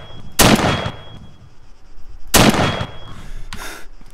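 M16/M4 rifle fire from a mod weapons pack in Arma 3: two loud, close single shots about two seconds apart, each with a sharp crack and short echoing tail, followed by a fainter third report.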